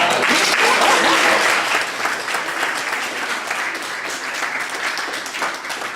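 A conference audience claps enthusiastically, a dense burst of applause that stays loud before tapering slightly and continuing.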